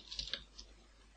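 A computer keyboard gives a few quick, faint keystroke clicks in a brief burst, close by and alone in a quiet room.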